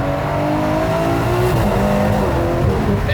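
A Ferrari 812 Competizione's V12 roars loudly through its exhaust at speed on the Autobahn, a dense, continuous engine howl with shifting pitch heard from inside the car.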